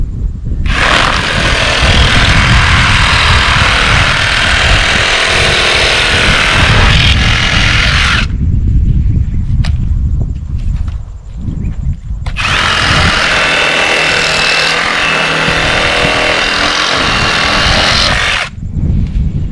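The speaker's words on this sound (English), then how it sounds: "I cut it up with a Recipro saw." Loud, close reciprocating saw buzzing through firewood in two long cutting bursts with a short pause between, harsh and steady while it runs.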